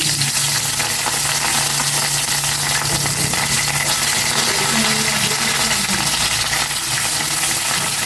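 Pampano fish frying in hot oil in a pan, a dense, continuous loud sizzle and crackle with faint clinks, steady throughout with no talking.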